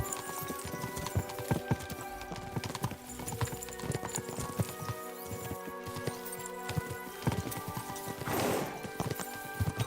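Horses in a video game gallop with rapid, busy clip-clopping hooves, loud and close, with a brief whinny near the end.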